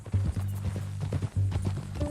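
Horse hooves clip-clop in the Red Dead Redemption 2 video game, a steady, fairly close rhythm of hoof falls with low rumbling beneath, over about two seconds.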